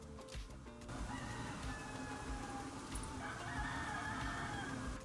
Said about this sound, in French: Vous entendez le coq ou pas?